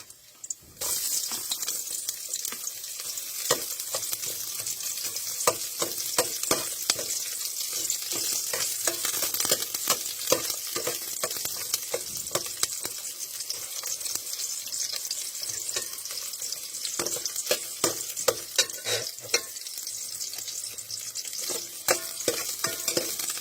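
Chopped onions sizzle steadily in a hot pan while shellfish is being cooked, with a continuous crackle and repeated scraping stirs of a utensil running throughout, close and fairly loud, no voices.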